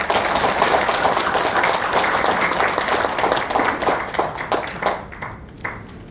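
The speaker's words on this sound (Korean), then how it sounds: "내일 청년들에게 큰 박수 부탁드리겠습니다" An indoor audience at a founding convention in a National Assembly meeting room gives loud, dense applause that thins into scattered claps and fades near the end.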